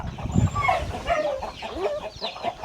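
Chickens clucking on a farm that also keeps cattle, a busy overlapping run of short cackles and clucks, fairly close and continuous, with no speech.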